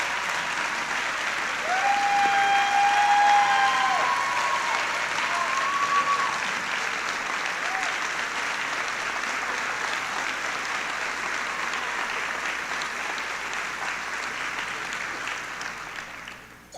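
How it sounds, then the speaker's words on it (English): Sustained audience applause at a high school class night honoring seniors committing to military service, a steady broad wash of clapping filling the hall and slowly tapering off over many seconds. "let's give them all a round of applause"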